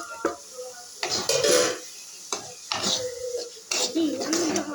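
Ground tomato paste hits a hot pan for a fish curry, giving a soft sizzle with stirring and utensil clinks in a home kitchen, while a voice talks over it.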